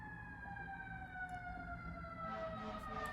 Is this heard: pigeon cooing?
no